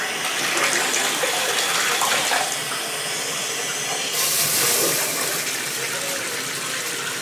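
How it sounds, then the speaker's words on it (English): Tap water gushes steadily into a bathtub being filled to bathe a Siberian Husky, a loud, continuous rushing splash with a brighter surge partway through, no voices. "so I'm gonna turn the water on."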